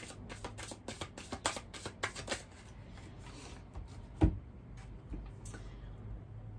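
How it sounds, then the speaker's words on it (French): Oracle cards being shuffled by hand, a run of quick soft riffling flicks followed by a single sharp tap as a card is drawn, quiet and close with no talking. "on va tirer quelques cartes de l'oracle du Xavam"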